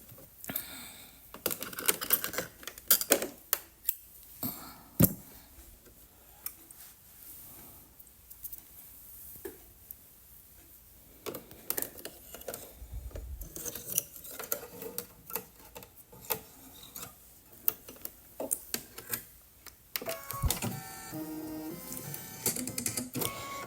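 An embroidery machine stitches placement lines for a flannel teddy's ears in the hoop, a busy run of rapid close ticking and tapping with irregular bursts and brief pauses throughout.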